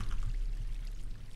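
Flowing water in the Minecraft video game, a steady low rushing wash that stays loud and close for the whole short stretch with no breaks.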